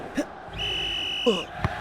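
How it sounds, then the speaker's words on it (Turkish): At the end of a football match, a referee blows a long, steady whistle. The blast is heard over crowd noise and brief sounds. "Top kalenin oldukça uzağına gitti ve son düdük."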